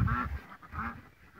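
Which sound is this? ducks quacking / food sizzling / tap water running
ducks quacking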